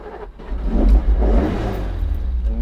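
A 1981 Ferrari 308 GTB with a carbureted engine catches and revs up, a close, loud, throaty burst that settles into a steady idle-like drone.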